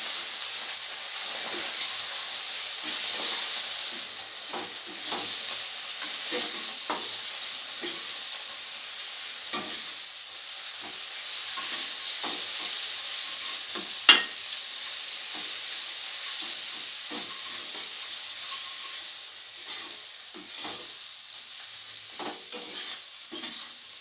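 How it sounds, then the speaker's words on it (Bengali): Spice paste with Kashmiri chilli powder is sautéed in a pan for a Katla fish dish: continuous hissing sizzle broken by repeated scraping stirring strokes, close and fairly loud, with one sharp clack midway. "এবারে সমস্ত কিছুকে খুব ভালো করে একসাথে কষিয়ে নেব।"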